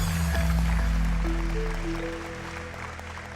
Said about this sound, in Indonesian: Kita tepuk tangan untuk Claudia